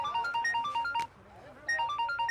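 A mobile phone's electronic ringtone chimes in a quick repeating melodic pattern, pauses for about half a second, then resumes at the same loud, close level with no voices over it.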